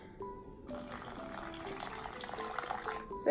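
Water poured from a canteen into an MRE pouch, a gurgling, splashing fill with rising watery tones, fairly close, amid faint rustling of the pouch.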